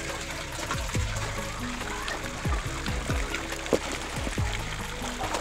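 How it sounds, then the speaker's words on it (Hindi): Water from a bucket mixed with lemon cleaner poured over solar panels, giving a steady splashing, trickling wash that runs throughout with a few sharper drips and knocks on top. "प्लेटों के ऊपर मैं पानी डालूंगा।"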